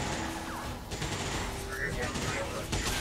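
Scattered gunfire from a firefight in the strategy game XCOM 2, popping at a moderate distance beneath steady game ambience, with a voice talking over parts of it.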